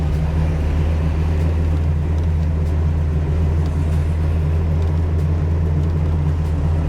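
A Pontiac Trans Am with a 455 V8 and four-speed runs at a steady, loud idle close by, its deep, even exhaust rumble carrying on alone without any talk.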